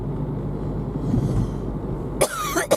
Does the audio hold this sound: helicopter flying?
no